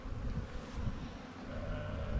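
Honeybees buzzing steadily around an opened backyard beehive during a hive check, a dense continuous hum with no voices.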